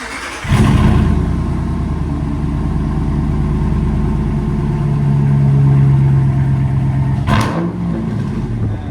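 A 2017 Ram 1500 with a 5.7L HEMI V8, Black Widow exhaust, resonator delete and 5-inch carbon tips revs loudly and up close, its deep throaty roar swelling and holding before dropping off near the end.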